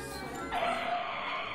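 A car-accident sound effect within a novelty recording: a sudden, sustained tyre screech rises in and holds steady, loud and close, with no voices.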